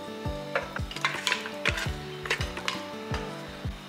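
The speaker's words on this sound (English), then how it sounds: "in a pressure cooker, add 500 grams of mutton bones" Mutton bones dropped one by one into a metal pressure cooker for bone soup, making a series of sharp clattering knocks in an irregular rhythm, close and clear, with no talking.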